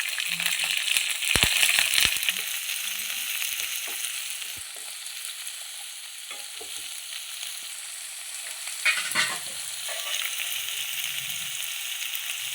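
Two chopped onions and six green chillies sizzle and crackle steadily in a hot pan, with occasional stirring clatter, close and continuous, no voices.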